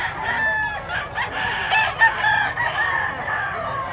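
A rooster crows repeatedly in bright, strained calls over steady farmyard background noise, fairly close and loud.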